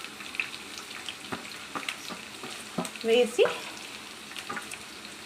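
Onions frying in a pan with occasional stirring, a soft steady sizzle with scattered clinks and scrapes and a louder stir burst midway, prepared for veg manchurian; a brief spoken word passes over it.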